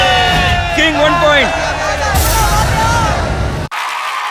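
Loud, close crowd cheering and shouting at a kabaddi game, with excited whoops and yelling voices swelling over a dense roar, then cutting off abruptly near the end.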